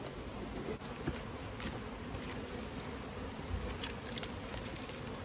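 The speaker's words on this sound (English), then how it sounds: "8 frames of bees in there, so I think we're going to be good." Honey bees buzz steadily in a nucleus hive during winter feeding with fondant, a close, continuous drone with a few soft knocks and no talk.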